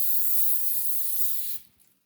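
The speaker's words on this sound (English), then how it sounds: "I'm going to carefully spray over it, and you don't want to put a lot" A spray can lays an even coat over a box, giving a steady, close hiss that stops abruptly near the end, with no talking.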